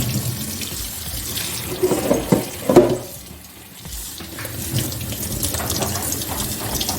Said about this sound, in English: I'll just gradually run water on this one.